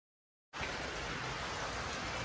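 Heavy rain near a waterfall at Panshet starts after half a second of silence, then pours as a dense, even, unbroken hiss.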